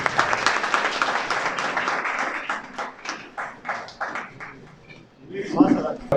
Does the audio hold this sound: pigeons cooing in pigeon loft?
no